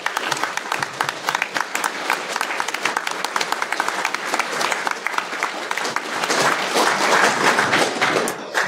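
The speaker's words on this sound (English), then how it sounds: "massive round of applause to them" Sustained applause from a large audience, dense and loud, with many hands clapping continuously and no pause.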